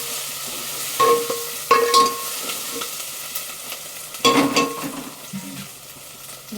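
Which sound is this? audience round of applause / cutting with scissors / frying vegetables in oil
frying vegetables in oil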